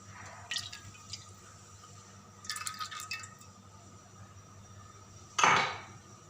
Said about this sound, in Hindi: अब सबसे पहले हम इसमें ऑयल डालेंगे।